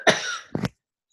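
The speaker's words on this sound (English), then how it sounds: "Hold on, I'm going to cough really loud." A single loud, close cough with a rough throaty burst, followed by a shorter second hack, then silence.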